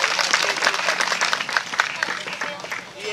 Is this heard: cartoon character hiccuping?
no